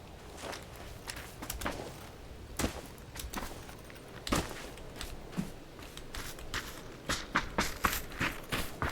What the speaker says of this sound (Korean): 발소리 났는데?